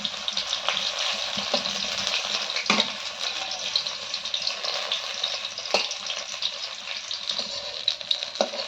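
Stuffed pointed gourds (potol) fry in oil on low heat, giving a steady, close sizzle broken by a few sharp clicks and stirring taps.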